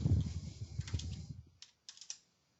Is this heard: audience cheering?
no